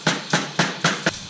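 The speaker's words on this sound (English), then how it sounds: "when I'm tapping on the flywheel, the force is just going straight down" Engine flywheel tapped with a hammer: five sharp metallic knocks in an even rhythm, close and loud, with nothing else heard.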